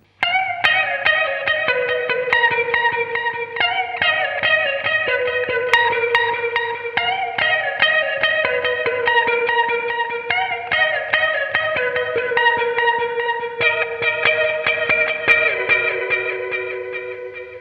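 Electric guitar played through an older Boss digital reverb pedal, its low-resolution effect giving a grainy character: ringing chords and melodic arpeggios sustain steadily with a reverberant wash, played alone without any voice.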